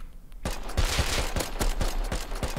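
Rapid gunfire in a video game, a steady run of about ten loud, evenly spaced shots from close range, fired without pause, with no voices over it.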